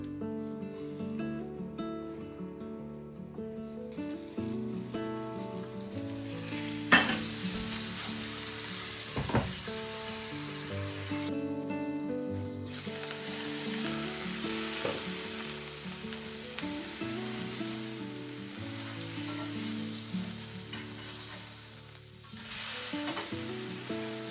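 Fish fries in a pan with a steady, moderately loud sizzle that lasts the whole stretch, with a few sharp pops and faint stirring touches.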